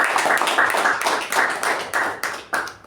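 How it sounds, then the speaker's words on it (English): A small group claps for a table topics master at a Toastmasters meeting, distinct hand claps in uneven bursts that swell and fade, fairly close and moderately loud, with no talking. "So huge round of applause for our table topic master of the day, Toastmaster Sakshi."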